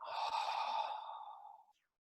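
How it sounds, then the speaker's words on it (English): A slow, steady exhale through the nose during a calming breathing exercise, soft and close, tapering off gently after about a second and a half. "Breathe out."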